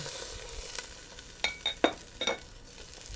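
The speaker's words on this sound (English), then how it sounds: "So now I'm actually browning this tomato paste" Tomato paste browns and sizzles quietly in a pot for pasta sauce, with a few short scraping stirs and small crackles standing out over a low background hiss.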